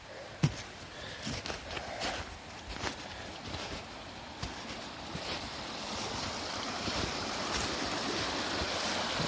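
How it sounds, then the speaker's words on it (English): Rushing water of a creek at high water roars steadily and close, a dense continuous wash of fast-flowing water that builds slightly toward the end. "see what some of this water looks like. I can hear it, and it's running pretty good."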